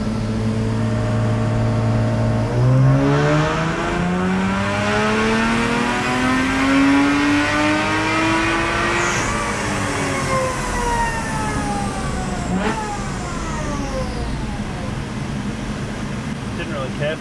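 Lexus IS200 engine on a dyno in a loud, sustained wide-open pull, pitch climbing steadily through the revs before dropping off near the end, with speech faintly underneath.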